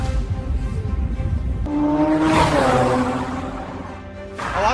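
A supercar such as a Lamborghini or Ferrari passes on a street in a wealthy Canadian neighbourhood, its engine rising sharply in pitch as it accelerates by close and loud, then fading away.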